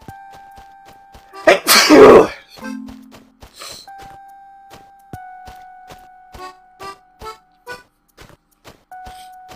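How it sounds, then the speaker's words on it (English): One hard, explosive human sneeze bursts out loud and close, followed by a brief throaty rasp, while soft electronic game chimes and tones ring on around it. "I just sneezed pretty hardcore"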